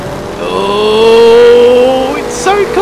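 A 5-litre Mustang in The Crew 2 accelerates hard off the race start, its engine note climbing steadily and loud, then shifting gear with a brief high screech near the end.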